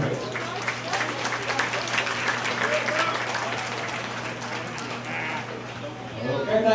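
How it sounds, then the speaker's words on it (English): Audience applause at a county fair market goat show, steady clapping sustained through most of the clip, with a voice rising briefly at the very end. "We'll give a nice round of applause, just like we've done here."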